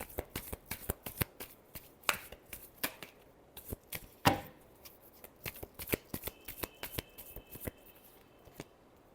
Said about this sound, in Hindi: लास्ट शफल, एक बार और शफल करनी पड़ेगी